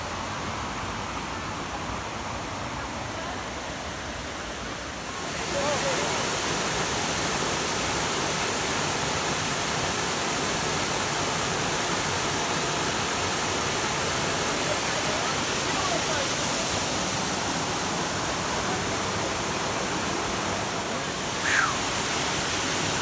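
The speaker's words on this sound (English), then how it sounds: "we found the waterfall" A waterfall roars steadily nearby, rushing water in a dense broadband wash that grows louder after a few seconds and continues unbroken.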